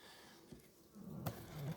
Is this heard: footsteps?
no